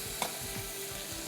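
Fried arbi (taro) pieces dropped into hot masala in a pan, a steady close sizzle with stirring and scraping and one brief clink, no talking.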